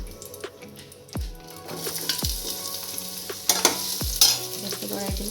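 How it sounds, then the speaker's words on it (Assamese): Onions sizzle in hot oil in a pan for shahi paneer, a continuous crackling fry broken by several loud scraping stirs of a spoon against the pan. "এতিয়া মই এই তেলতে পিঁয়াজখিনি অলপ ফ্ৰাই কৰি ল'ম।"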